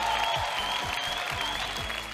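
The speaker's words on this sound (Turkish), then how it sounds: "Alkışlarla uğurluyoruz kızlarımıza." Studio audience applause on a Turkish television show as contestants are sent off, a brief burst of dense clapping with low rhythmic thumps underneath, easing slightly at the end.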